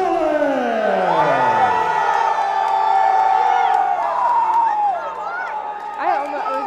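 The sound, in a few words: crowd cheering at MMA fighter entrance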